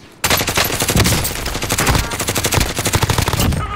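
Gunfire in Call of Duty: a loud, rapid burst of automatic shots that breaks in suddenly and keeps up a fast, steady rattle.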